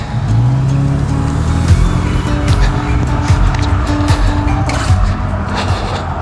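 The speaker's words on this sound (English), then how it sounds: "Crossing traffic." Road traffic crossing near a park entrance one mile into a morning marathon training run; steady loud car noise with engines passing and a rising pass-by sweep, continuous throughout with no talk.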